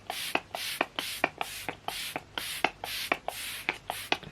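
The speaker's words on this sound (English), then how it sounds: "I'm gonna go in with the Maybelline Lasting Fix. Obsessed with this setting spray." Maybelline Lasting Fix setting spray is pumped over and over: about ten quick, even-paced hissy mist bursts, each with a small click, close and moderately soft with no speech.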